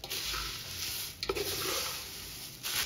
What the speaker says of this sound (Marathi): हलक्या हाताने आपल्याला हे मिक्स करायचे